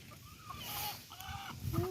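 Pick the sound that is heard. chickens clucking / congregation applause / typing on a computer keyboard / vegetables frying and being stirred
chickens clucking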